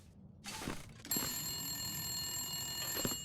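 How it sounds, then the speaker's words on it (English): Telephone bell ringing inside a building in The Long Dark video game, a steady metallic electric ring that starts abruptly and continues nearby after a few soft footstep-like knocks. "It sounds like a telephone."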